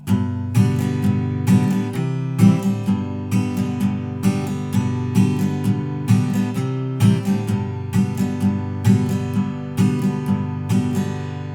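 An acoustic guitar strums chords in a steady rhythm, bright downstrokes ringing out one after another, close and clear.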